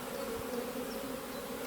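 Honey bees swarm around a beekeeper working an open hive, making a dense, steady, close droning buzz that stays constant throughout with no pauses.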